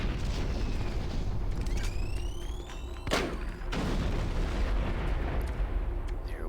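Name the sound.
hand grenade explosions in the video game Doom 3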